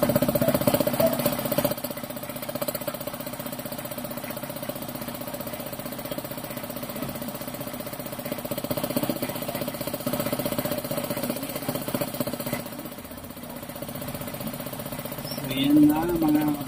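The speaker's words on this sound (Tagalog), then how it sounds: "Subukan natin kung kakarga na siya." A 1 hp air compressor runs after a capacitor repair, giving a steady, droning motor hum with a mechanical buzz that holds level throughout and swells slightly near the end.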